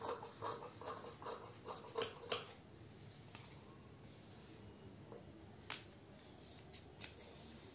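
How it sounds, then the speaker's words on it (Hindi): Scissors snipping through blouse fabric and lining along marked lines, a faint series of soft, irregular cutting clicks clustered early on, then sparse snips over a quiet background. "अब इसी के हिसाब से हम इसको कट कर देते हैं"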